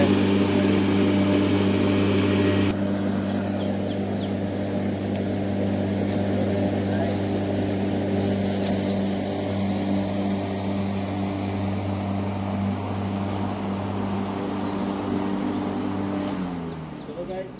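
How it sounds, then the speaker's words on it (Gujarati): A petrol lawn mower cutting grass at a farmhouse drones steadily and loudly throughout, with a strong tonal engine hum that drops slightly in pitch near the end. "ચલો લોન કાપવાનું ચાલુ કરી દઈએ જો ચાલુ કરી દીધું છે"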